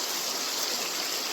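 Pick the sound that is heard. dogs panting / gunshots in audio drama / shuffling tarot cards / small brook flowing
small brook flowing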